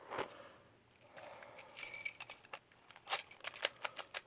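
A bunch of keys jangles and clinks while someone sorts through them to match a quick-set lock, with bursts of rattling metal close by and no talking.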